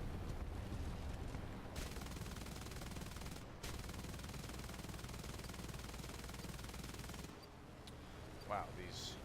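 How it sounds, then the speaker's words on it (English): Aircraft machine guns fire in long, dense bursts during an air battle in the video game War Thunder, a continuous loud rattle with brief gaps between volleys. "Wow, these machine guns do almost nothing"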